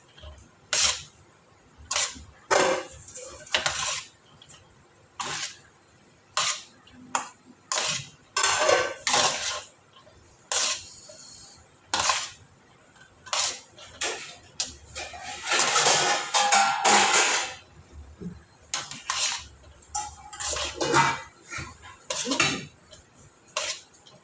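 Biryani being mixed in a pot: a ladle gives a series of close, irregular clinks and scrapes against the metal, with a denser burst of stirring in the middle and no voices.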